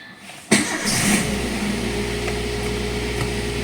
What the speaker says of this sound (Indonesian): ketika starter langsung jreng